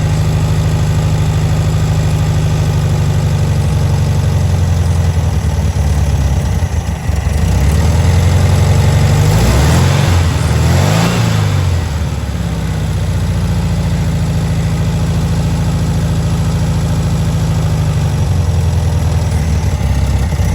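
Air-cooled VW Beetle engine idling roughly, with a steady low engine drone running throughout, swelling as the throttle opens for a rev in the middle before settling back to a rough idle; a fuel bubble sits in the filter.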